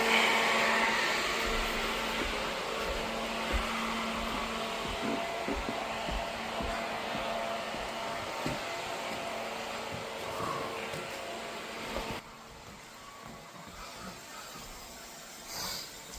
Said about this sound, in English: Got the fan blowing to help dry the carpet.